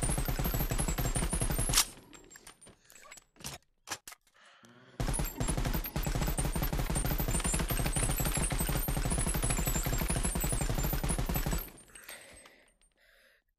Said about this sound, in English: the gun sound is very, very quiet